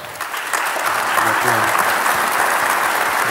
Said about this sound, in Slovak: Poprosil by som veľký potlesk.